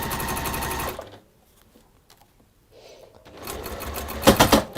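A sewing machine stitches a seam in a steady, rapid whirring chatter, close up. It stops, leaving near silence, then starts again with a louder, heavier run of stitching.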